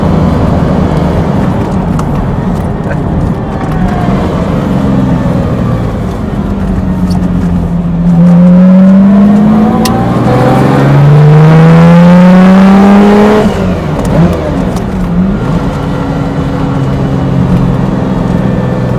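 Lamborghini Miura with a 5-speed gated manual, its engine revving hard in a tunnel. Loud rising and falling harmonic sweeps run through gear changes, echoing off the walls with no one talking.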